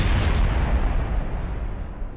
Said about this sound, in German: Als wäre das so eine richtige Wucht von Explosion